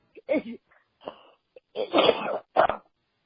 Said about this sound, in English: there goes my giant coughing attack again